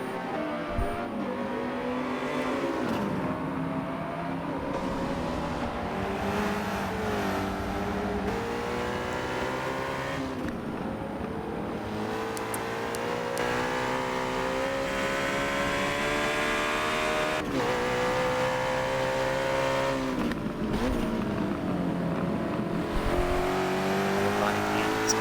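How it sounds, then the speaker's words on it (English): Onboard the number 76 McLaren race car at Laguna Seca during a Michelin Pilot Challenge round, the engine revving up and down through gear changes with repeated rising pitch sweeps, loud and continuous. "Right on board with our overall leader at the moment, Black CR1 and his 76 McLaren Compass 360 machine."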